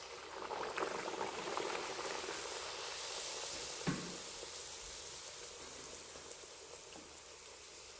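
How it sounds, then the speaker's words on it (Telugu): A spinach (palak) puri deep-fries in hot oil, a dense, steady bubbling sizzle heard close and alone, with a brief louder splash partway through. "హీట్ అయిన ఆయిల్లో పూరి వేసుకుంటున్నా."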